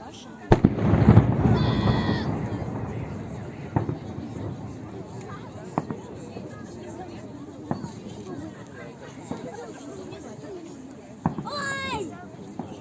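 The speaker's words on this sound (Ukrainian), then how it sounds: "Когда этот салют уже кончится наконец-то?" Victory Day fireworks salute in Belgorod on 9 May: a loud burst of explosions at the start, then scattered booms and crackling pops throughout with whistling rockets, while children and other people talk and shout nearby.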